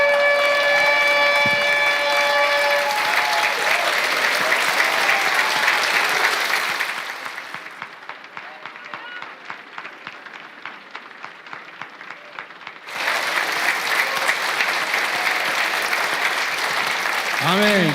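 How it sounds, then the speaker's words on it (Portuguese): A church congregation stands and applauds. Loud, dense clapping continues throughout, briefly overlapping the end of a horn blast at the start, easing for a few seconds in the middle, then swelling back to full volume. "Fica em pé, igreja, aplaude ao Senhor."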